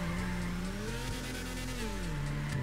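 A tuned BMW E30 engine in GTA 5 drones steadily, its pitch rising and falling as it revs, with faint tire squeal and skidding noise behind it.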